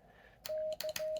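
Short bursts of Morse side tone from a home-built ham radio transceiver, a steady pure beep keyed in three quick pulses of differing length, clear and close with no talk.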